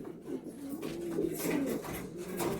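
Andhra pigeons at a home loft give low, rolling coos close by, a few overlapping calls repeating steadily for a couple of seconds, with no voices over them.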